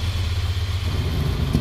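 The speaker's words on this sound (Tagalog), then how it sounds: "start natin yung motor, pakinggan natin yung tunog ng stock na exhaust system." Ducati Monster 796 motorcycle idling on its stock exhaust, a steady low throbbing engine tone with light mechanical clatter, close and continuous.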